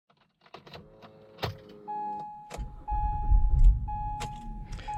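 A high-mileage Acura MDX SUV with about 240,000 miles cranks and starts, its engine catching into a steady low rumble after a few soft clicks and a sustained chime tone.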